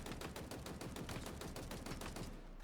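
An automatic rifle in the video game Halo Infinite fires a steady, rapid burst of shots in an even rhythm while the trigger is held down. The burst is fairly quiet and cuts off at the end.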